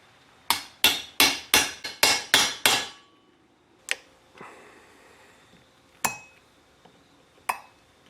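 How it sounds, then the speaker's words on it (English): A hammer taps clips into place during a 4L80E transmission install on a 1982-1992 third-generation Camaro, with a quick run of seven sharp metallic strikes followed by a few isolated, slower knocks. "hammer that in"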